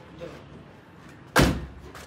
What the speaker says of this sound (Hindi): अभी ये आपको मैं चेक करवाता हूँ जैसे दरवाजे बंद करके।